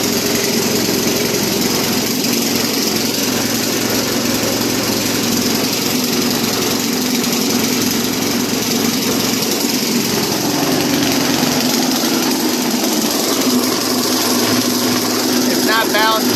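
Lawn mower engine rigged as a generator, charging while it runs, drones steadily and loudly throughout with a constant high-pitched whine, its pitch shifting slightly partway through.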